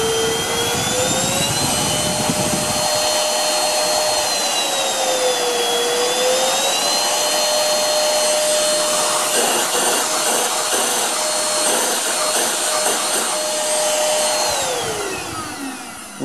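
An ILIFE Easine H55 cordless vacuum cleaner motor whines loudly and steadily, its pitch sliding up and dipping as the speed changes, then tapering off at the end; no talking.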